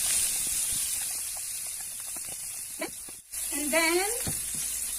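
Pineapple pieces with their juice sizzle in hot oil previously used for frying chicken, a steady close hiss of frying running throughout while someone talks briefly over it.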